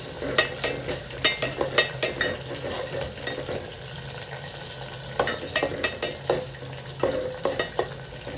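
Green chilies, ginger and curry leaves fry in a pan of hot oil, a steady sizzle broken by repeated sharp scraping clicks from a stirring spoon, close and fairly loud, with no talking.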